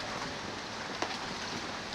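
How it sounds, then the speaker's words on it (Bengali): Rain falls steadily on a field of freshly planted seedlings, a continuous soft hiss with scattered nearby drops and one brief sharper patter, no talk. "চারাগুলি লাগাইছে আধা ঘন্টাও হয় নাই, বৃষ্টি শুরু হয়ে গেছে"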